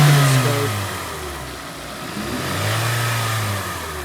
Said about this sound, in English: I'm going to have Anton rev the car up a little bit